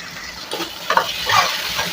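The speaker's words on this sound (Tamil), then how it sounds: "உப்பு போட்டு நல்லா வதக்கி விட்டுக்கோங்க." Tomatoes sautéed with salt in a pan for a South Indian okra tamarind curry give off a steady close sizzle, with brief louder bursts of stirring and scraping partway through.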